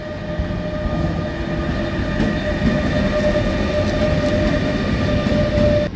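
Continuous rumble of a red Regional-Express train in motion in Lower Saxony, with steady droning tones and a constant rolling roar, heard from inside or close by.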